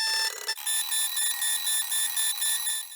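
An alarm clock rings for an early morning wake-up, a shrill electronic beeping pulsing in a rapid, steady rhythm, loud and close with no voices.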